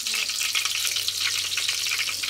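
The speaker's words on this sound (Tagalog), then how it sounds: "Prito na po natin siya." Chicken pieces fry in a pan of hot oil at home, giving a steady, close, dense sizzle and crackle that runs unbroken with no voices.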